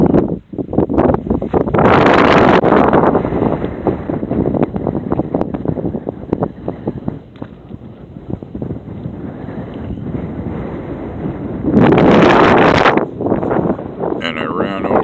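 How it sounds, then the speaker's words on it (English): Gusty wind buffets the microphone out on the open mesa on the east side of Ehrenberg, loud roaring bursts rising and easing, with stretches of rumbling and rustle between them. "out here in the wind again"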